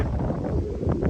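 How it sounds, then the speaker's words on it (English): Steady wind buffeting a microphone at a golf course, a low, continuous rumble with gusty swells and no other clear sounds. "It is quite windy."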